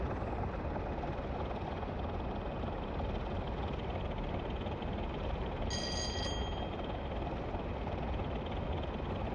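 A train runs from Bristol to Exeter over the snowy Blackdowns with a loud, constant engine drone and rumble, and a brief high whine rises about two-thirds of the way through.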